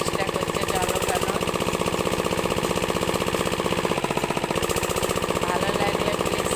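A faulty irrigation water pump engine for watering fields chugs loudly and steadily with a rapid mechanical knocking beat, close by and continuous, failing to draw water.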